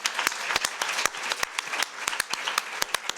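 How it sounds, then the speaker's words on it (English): Applause from an audience at a housing justice event, thinner and more scattered, with distinct individual claps popping out in an uneven rhythm over a softer background of clapping. "that is something worth clapping for"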